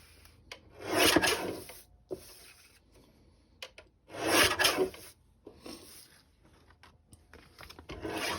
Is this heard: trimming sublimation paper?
yes